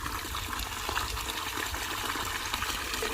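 Water from a solar water pump gushes out of a two-inch pipe in a strong, continuous rushing flow, close and steady with no break.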